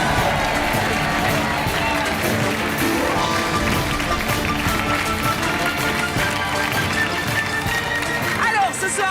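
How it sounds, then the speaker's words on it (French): A television game show studio audience applauds as departing contestants leave, with dense, sustained clapping and crowd noise filling the room and a voice talking over it. "On vous laisse repartir sous les applaudissements."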